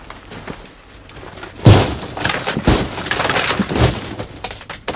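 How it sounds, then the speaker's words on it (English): Heavy luggage pushes fragmented glass out of a train coach window: a burst of crunching, scraping breakage that continues as a dense, fairly loud crackle of shifting shards with several stronger crunches. "Now push out the fragmented glass with an item of luggage or anything heavy."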